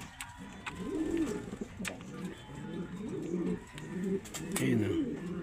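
Racing pigeon, a bird back from a race from Santiago, Isabela, cooing in repeated low rounded phrases close by, with faint tapping of pecking between calls.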